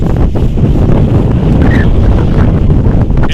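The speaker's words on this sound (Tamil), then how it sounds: "சரியான காற்று, போனாலும் காற்று காற்று காற்று தான்." Strong wind roars into the microphone during a motorbike ride near Yercaud, a loud, constant buffeting rumble with no break and no voices.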